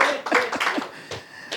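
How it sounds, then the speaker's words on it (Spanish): Audience applause after a talk at a philosophy café on human rights: a brief burst of hand claps, moderately loud and fairly close, that thins out and then picks up again. "les pido un fuerte aplauso por lo que acabo de decir"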